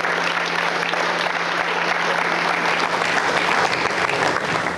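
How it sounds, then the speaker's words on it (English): Loud, sustained applause from a conference audience honoring colleagues, a thick uniform roar of many hands clapping at once with a faint steady hum beneath. "So I would like really to have a round of applause for them"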